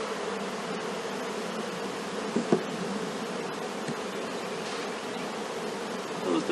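A honey bee swarm being installed in a hive gives a steady, dense buzzing that holds throughout at close range, with a couple of faint knocks partway through.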